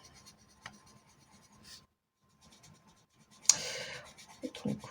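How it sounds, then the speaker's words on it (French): A pen colours in small circles on paper, giving soft scratchy strokes that come in short bursts with a pause in the middle. A louder rubbing flurry follows near the end, all fairly close and quiet. "je vais colorier ça. Et on va colorier 2 petites boules."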